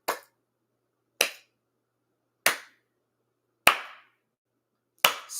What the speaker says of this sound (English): slow clap for your slow ass.